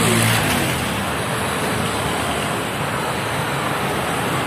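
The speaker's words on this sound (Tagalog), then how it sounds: "Mga sasakyan." Steady road noise from vehicles passing nearby on a road close to houses, a continuous broadband rumble and hiss with no distinct single pass, heard alone without talk.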